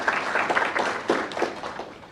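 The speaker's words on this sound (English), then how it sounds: "Please give him a round of applause." A panel audience claps for a speaker being introduced, a moderately loud, steady wash of many hands clapping that sustains throughout with slight swells.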